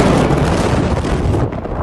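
A massive explosion at the Beirut port, a loud, dense, roaring blast rumbling continuously for a couple of seconds before thinning slightly.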